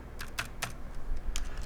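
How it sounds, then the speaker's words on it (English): Fingers type on a computer keyboard in a short burst of soft, quick keystrokes, close but quiet over low background noise. "and then start typing in there"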